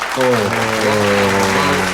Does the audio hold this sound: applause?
yes